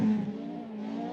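Group B Mazda RX-7 rally car on a gravel stage, a brief steady engine drone heard from some distance, loudest at the start.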